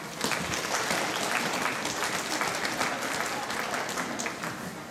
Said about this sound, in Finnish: Ja annetaan aplodit Kurville.